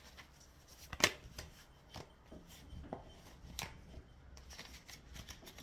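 Tarot cards being shuffled produce faint, scattered riffling and soft flicks with one sharper snap near the start, quiet and close with no talk.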